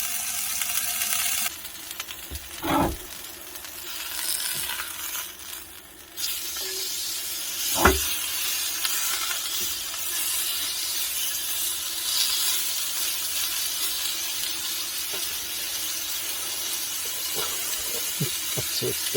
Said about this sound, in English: Sizzle away, baby, sizzle away.